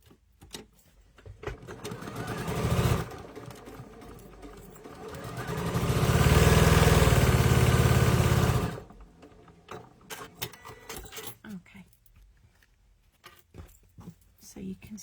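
A sewing machine stitches quilt pieces in a long, loud mechanical whirring run, after a shorter burst earlier, then gives way to fabric handling sounds and quiet speech.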